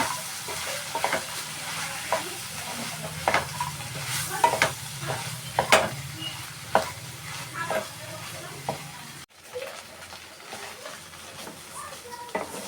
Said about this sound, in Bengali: এটাই নেড়ে চেড়ে ভেজে নেবো এইভাবে